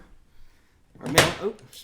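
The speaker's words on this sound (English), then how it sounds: "Oh, James is at the back door" A back door opens as someone arrives at a house, a single brief burst of rattling and thumping close by in an otherwise quiet room.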